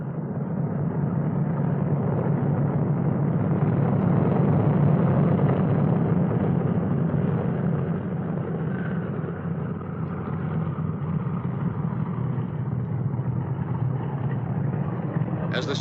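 Piston engines of a heavy B-29 bomber running as it taxis on a runway, steering with its outboard engines: a loud, steady low droning rumble throughout, with a narrator talking over it.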